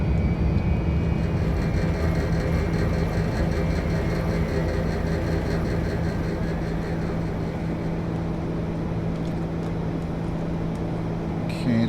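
Steady engine drone of a Hotstart TBM 900 turboprop climbing in X-Plane 11, a constant loud hum with a whining tone that fades slightly, while someone talks over it.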